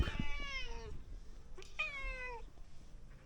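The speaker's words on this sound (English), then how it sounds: "if you can hear a cat in the background" A cat meows twice, two drawn-out, tonal cries separated by a short pause, heard over low background hum.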